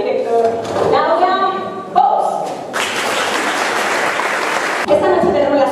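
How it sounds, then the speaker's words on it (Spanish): At a Balear del año awards gala, an audience breaks into a loud, dense burst of applause that swells for a couple of seconds, with a voice speaking before and after it. "Damos un fuerte aplauso para recibir a la hija del director"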